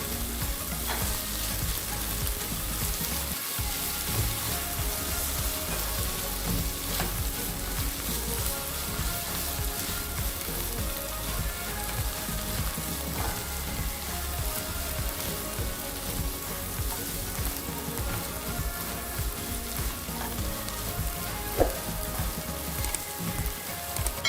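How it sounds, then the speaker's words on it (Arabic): Chopped green chillies sauté with onion and garlic in a hot pan for a baked potato tagine, giving a loud, steady, close sizzle of frying that runs unbroken throughout with no voices. "هنزل كده 3 حبايات فلفل اخضر متقطع، وهديهم تشويحه مع البصل والثوم"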